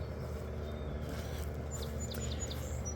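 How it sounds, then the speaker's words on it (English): A few faint, high chirps from small birds come in quick succession over a constant low background hum. "you hear our birds and sweet babies"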